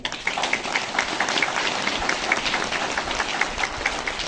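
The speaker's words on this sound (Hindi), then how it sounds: "हम लोग इनके लिए जोरदार एक बार ताली बजा देंगे।" A congregation gives the newly married couple a round of applause at a church wedding, with brisk, even clapping throughout a few seconds.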